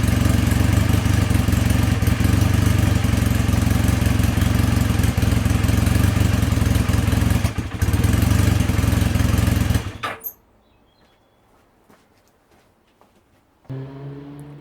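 Honda CB250N SuperDream motorcycle engine idling steadily and loud for about ten seconds after a rattle repair, then cut off, leaving near silence before faint movement noises return.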